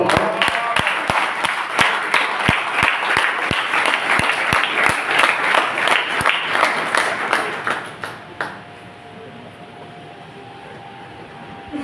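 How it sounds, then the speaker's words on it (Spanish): A congregation at a church service claps a warm welcome for a pastor coming forward, dense steady applause with sharp individual claps, lasting about eight seconds before dropping off into quieter room noise. "Vamos a recibir un fuerte aplauso de bienvenida."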